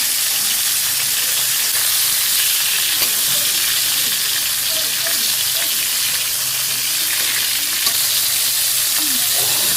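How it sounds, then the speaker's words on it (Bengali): A fish head fries in oil in a pan, giving a loud, continuous sizzle and hiss that stays close and steady throughout, with faint stirring and small pops beneath it. "নাতির জন্য মাছ ভাজছি, সেই তেলেই আবার আমি মাথা ভাজলাম দেওয়ার জন্য"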